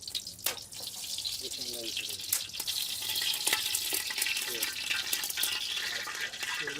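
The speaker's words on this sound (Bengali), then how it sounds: "এখন আমরা সরিষার তেল দিয়ে দিচ্ছি, এখন আমরা গোটা কিছু মশলা দিয়ে দিচ্ছি এখানে" Mustard oil and whole spices fry in a pan over a wood fire in a village setting, giving a continuous hiss and crackle with scattered stirring clatter, fairly close and loud throughout.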